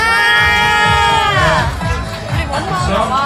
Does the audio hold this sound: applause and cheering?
yes